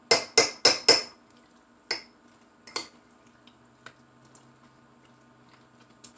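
Utensil scrapes and taps against a bowl while a home-cooked vegetable and kelp powder dish is mixed, a quick cluster of sharp clicks followed by sparser, softer knocks, close and without talk.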